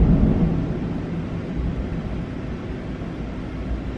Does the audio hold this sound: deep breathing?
no